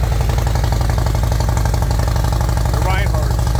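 A motorcycle engine idles in neutral, close and loud, with a steady low throbbing rhythm that holds throughout.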